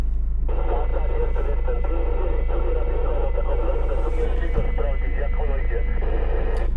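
A two-way amateur radio transmission comes through under steady hiss and hum, a voice talking over the noise for the whole stretch.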